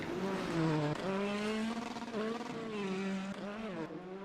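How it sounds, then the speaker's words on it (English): A rally car's engine runs steadily after finishing a stage of the Wyedean Stages Rally, a Great Britain and Ireland Rally Championship event. The drone is loud and close, rising and falling in pitch with small revs, and it is heard alone. "somehow the car is still in one piece and running"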